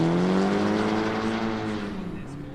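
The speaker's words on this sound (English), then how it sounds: "SR, you can hear the blow-off valve" A drift car with an SR engine revs hard, its high engine note falling away as it passes during a street drifting event, loud and close, with a brief hiss like a blow-off valve near the end.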